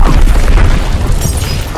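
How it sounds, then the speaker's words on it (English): A bomb explodes in Call of Duty WW2 multiplayer, a very loud, close, rumbling boom filling the whole moment and slowly decaying. "Enemy bomb incoming."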